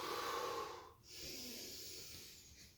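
A single long, breathy exhale during a HIIT workout, close and fairly loud, tapering off, then a second softer rush of air follows; no talking.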